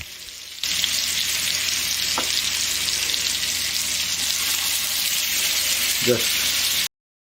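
Scallops frying in butter in a pan make a loud, steady, close sizzle that runs without a break, with a couple of brief clinks from the pan, before the sound cuts off abruptly.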